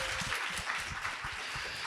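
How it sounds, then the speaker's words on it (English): Audience applause at a Muslim narratives panel event, a dense steady patter of clapping from a crowd, moderately loud and continuous throughout with no voices over it. "Let's give them a big round of applause for bringing this kind of programming"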